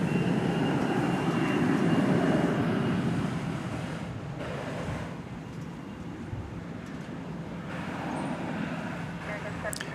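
Airliner taxiing at DFW Airport, a steady broad jet rumble and whine held throughout, fairly close, swelling slightly then easing, with no talk over it.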